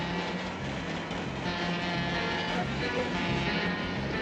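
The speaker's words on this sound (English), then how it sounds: "Oh, no! The train's coming!" A loud, steady rumble of a train fills the clip, dense and continuous with rattling undertones as it draws near.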